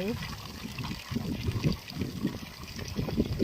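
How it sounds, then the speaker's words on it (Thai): Water trickles and splashes over a small fall in rice fields, a close, uneven babbling with bursts of gurgling, while a voice speaks at times underneath. "น้ำตก"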